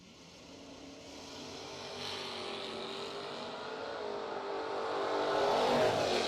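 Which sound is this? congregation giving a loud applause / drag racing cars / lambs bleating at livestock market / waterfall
drag racing cars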